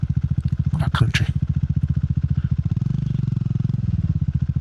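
A Triumph Scrambler 400 XC single-cylinder motorcycle riding at steady speed, its engine throbbing in a fast even pulse close up, with a brief burst of wind buffeting early on.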